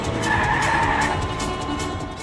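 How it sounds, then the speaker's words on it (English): Car tires skid and squeal through a continuous, loud screech during a movie car chase, layered with roaring engine noise and a dense rumble for the whole stretch. "This is like literally 2 hours of just a car chase."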